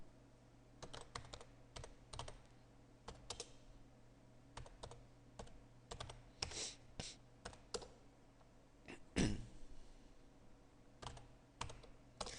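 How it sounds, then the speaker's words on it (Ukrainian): Fast, uneven typing on a computer keyboard as program text is entered in FreePascal, close-up taps in quick bursts with brief pauses and one heavier key strike. "І набираємо текст програми"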